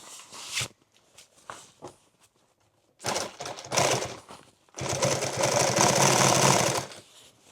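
Sewing machine stitching a heavy XL tool bag, working in bursts: short run, a few taps, then two longer stretches of rapid stitching, close and clear.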